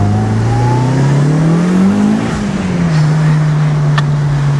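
A white Mitsubishi Lancer Evo VI engine pulls loudly under acceleration, its steady drone rising in pitch, dipping briefly with a gear change, then holding on, close and continuous without speech.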